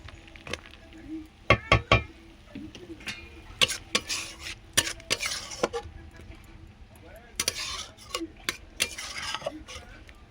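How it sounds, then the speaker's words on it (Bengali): A fork mashes cooked pineapple chutney in a pan, giving irregular bursts of metallic scraping and clacking against the pan over a low simmer, with a voice speaking at times. "আমি একটু ঘেটে দিচ্ছি কাঁটার সাহায্যে"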